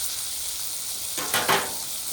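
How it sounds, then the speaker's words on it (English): Cooked steaks for an Italian steak sandwich drop into a sauce with a loud, close burst of sizzling that swells briefly twice over a constant background hiss of frying. "after your steaks are done cooking, right into that sauce"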